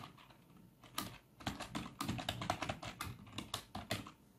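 Rapid typing on a computer keyboard, a quick run of crisp, close key clicks in uneven bursts with no voice.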